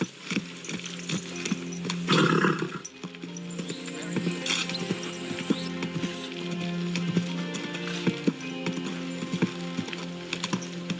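Horse hooves clip-clopping in the medieval video game Kingdom Come Deliverance II, a steady run of moderately loud hoofbeats mixed with background game sounds and a louder rustle early on.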